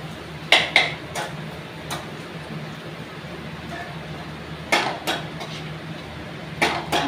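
Food stirred in a pan before vegetables are added: sparse, sharp metallic clanks of a utensil against the pan, in small clusters with quiet pauses between them.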